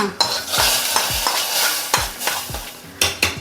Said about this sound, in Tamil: வடகம் தாளிச்சிடலாங்களா